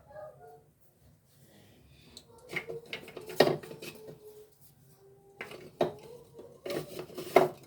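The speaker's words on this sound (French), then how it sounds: "Ensuite, je vais mélanger comme ça le tout, bien mélanger." Beef heart stir-fry stirred in a pan, with a series of sharp utensil clinks and scrapes against the metal coming in bursts, some loud and close, between quieter stretches.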